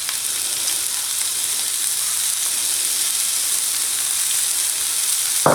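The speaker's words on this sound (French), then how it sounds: "Je rajoute par-dessus de l'échalote hachée." Chopped shallot sizzles in olive oil in a non-stick pan, a loud, steady, close hiss of frying that runs without pause, with a small knock at the very end.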